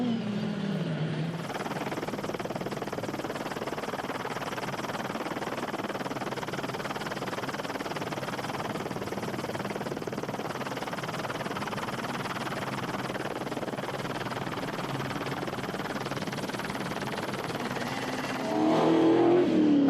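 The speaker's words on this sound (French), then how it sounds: "Excellent départ du buggy BMC numéro 37 qui prend rapidement la direction des opérations" Off-road BMC racing buggy, number 37, pulling away at the start of a 24-hour off-road race in France, its engine a steady broad roar among other race vehicles, louder revving rising near the end.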